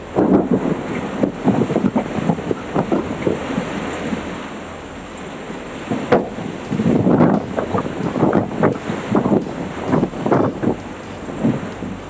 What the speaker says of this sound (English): Strong winds swept through Melbourne, hurling a family's basketball hoop across their driveway